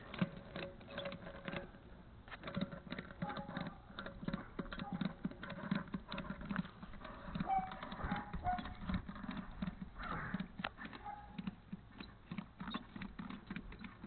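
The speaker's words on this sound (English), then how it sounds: "And just start ratcheting it" A ratchet strap is cranked tight across a tire, giving a quick run of sharp mechanical clicks in an uneven, repeating rhythm, close and moderately loud.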